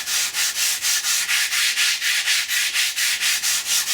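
Foam model aircraft wings being sanded by hand in a steady rhythm of about four strokes per second, each close, loud, hissing rub repeating evenly with no talking.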